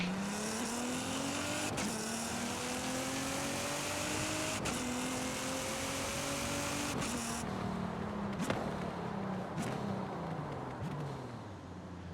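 Forza Horizon 5 car launching at full throttle off the brake, a loud sustained engine roar with rising revs that drop and climb again through several gear changes, punctuated by sharp clicks, steady and close throughout.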